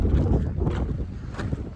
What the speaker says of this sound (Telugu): గాలి మాత్రం మంచిగానే వస్తుంది